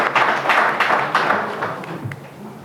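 An audience at a morning arts and culture forum in Yeumbeul Nord applauds, a loud burst of close, uneven clapping that gradually thins and fades.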